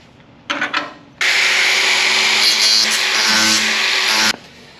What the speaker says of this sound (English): it helps once in a while to put a new disc on your grinder